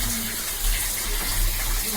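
Water gushes steadily into a household storage tank, a continuous loud rushing and splashing flow, with faint voices in the background.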